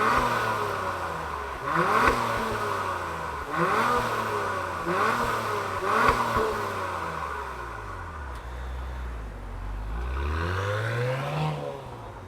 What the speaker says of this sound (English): let's fire up this V6 turbocharged engine and hear what it sounds like